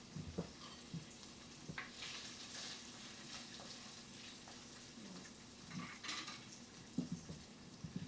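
Carrots fry in a pot for boeuf bourguignon, a soft continuous sizzle with occasional clinks and stirring sounds, close and fairly quiet.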